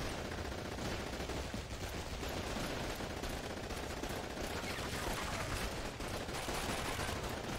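Dense battlefield gunfire from the video game Call of Duty 2: The Big Red One, with rapid machine-gun bursts and overlapping rifle shots forming a loud, unbroken barrage.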